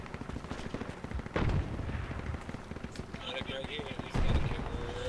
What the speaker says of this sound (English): I love that mortar, by the way, squad lead.